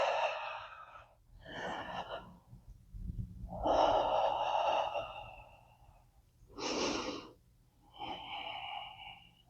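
Deep breathing during a seated chair yoga session: several slow, audible inhales and exhales in an uneven rhythm, close and fairly loud, with quiet pauses between breaths and no talking.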